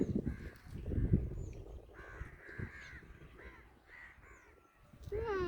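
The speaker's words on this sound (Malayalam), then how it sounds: "എത്ര കാക്കയാണ് പറക്കുന്നത്." Several crows caw repeatedly as they fly overhead near a temple, harsh calls coming in separate bursts, mid-distance and fairly clear.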